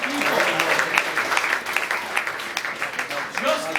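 An audience gives a continuous round of dense, close applause, many hands clapping at once with scattered whoops and voices mixed in.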